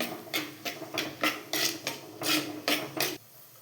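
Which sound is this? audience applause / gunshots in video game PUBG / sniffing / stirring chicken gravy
stirring chicken gravy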